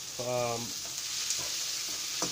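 Tomato slices fry in a fish curry sauce for shor puti fish, giving a steady close sizzle throughout, with a brief tonal sound near the start and a few faint clicks.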